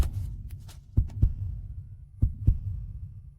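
A sound-effect heartbeat thumps in paired double beats, two lub-dub pairs over a low throbbing hum, close and muffled with no talking.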